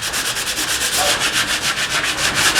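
Sandpaper rubs steadily across a coated loft wall in a rhythmic back-and-forth scrape, close and continuous with no voices.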